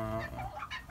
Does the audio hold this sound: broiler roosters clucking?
yes